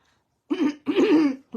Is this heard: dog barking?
no